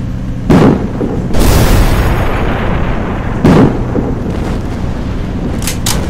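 An anti-tank weapon fires and explodes in a battle scene: heavy booms and sharp blasts land close and loud, followed by sustained rumbling and scattered pops of gunfire.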